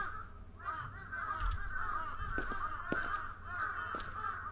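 Crows in a Tokyo horror game caw and squawk repeatedly over a steady, droning ambient background, with several sharp calls standing out near and far.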